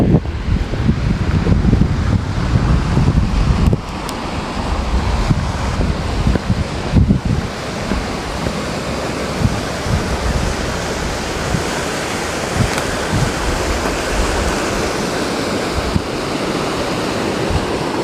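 Steady rushing flow of a creek among mine tailings in rural California, a continuous broadband wash with wind buffeting the microphone, loud and close with no talking.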